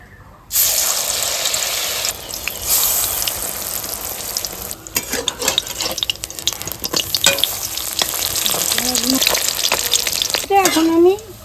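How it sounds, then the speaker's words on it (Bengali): Pumpkin flower fritters frying in oil, a loud steady sizzle close by with stirring scrapes and clatters, and a voice briefly heard near the end. "এই কুমড়া ফুলের বড়া আমি এখন ভেজে নিচ্ছি"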